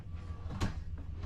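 The sink cover in a Thor motor coach kitchen shuts with a single soft, quiet thud against a faint low background hum.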